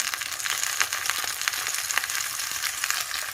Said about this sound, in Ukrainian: Ось такі ці мої великі пелюсточки смажаться.